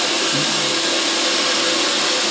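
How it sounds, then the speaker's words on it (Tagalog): A hair dryer blows hot air onto a hair extension, a loud, close, steady broadband whoosh with a faint motor whine, running unbroken for the whole stretch. "Kailangan mo sa i-blower para mag-melt"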